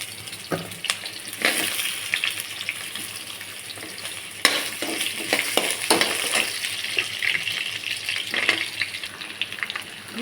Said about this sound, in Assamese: এতিয়া মই আলুখিনি অলপমান ভাজি লওঁ।